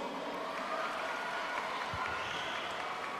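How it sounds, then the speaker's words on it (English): An audience applauds steadily for Muslim NGOs, a continuous wash of clapping from a crowd at a talk, moderately loud and unbroken, with no speech. "Come on, a round of applause for the Muslim NGOs."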